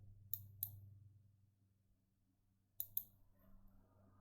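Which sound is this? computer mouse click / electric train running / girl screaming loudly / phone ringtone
computer mouse click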